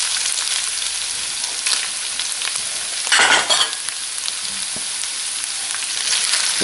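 Mashed potatoes are tossed with tongs in a hot skillet, a constant loud sizzle and crackle with a brief burst of stirring and scraping near the middle; no one speaks.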